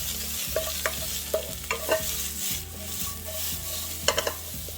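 Vegetables fry in vegetable oil in a pan over low heat for vegan japchae, a steady sizzle broken by repeated scraping stirs and light clinks of a utensil against the pan.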